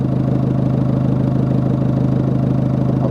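Engine idling steadily during a turbo breather test, with a loud, close, even low rumble and a regular throbbing pulse that holds constant throughout.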